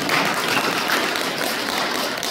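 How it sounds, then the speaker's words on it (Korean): A congregation at a Won Buddhist temple service applauds, a steady, dense wash of clapping from many hands that lasts a couple of seconds, heard alone without talk. "박수 한번 쳐주세요."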